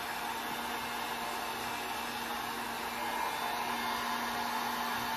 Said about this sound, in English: I am going to take my heat gun further away just because I don't want anything to melt